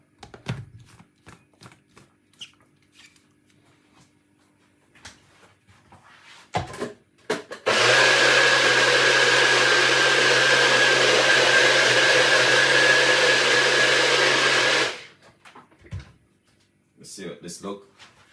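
A tiny blender whirs loud and steady for about seven seconds while blending sea moss gel with water, framed by clicks, knocks and handling noises before and after.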